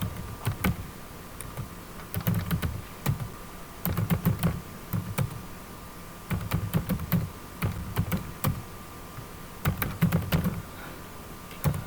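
Fingers type on a computer keyboard while entering text in MS Word, clusters of quick soft key clicks in bursts with short gaps, close and fairly quiet.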